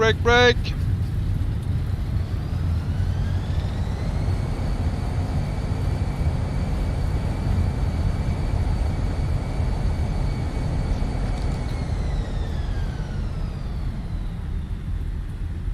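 Airliner touching down and braking on rollout in Microsoft Flight Simulator, an easyJet flight landing at Gibraltar: a steady loud engine and runway roar with rising, then falling whining tones as reversers and brakes slow the aircraft.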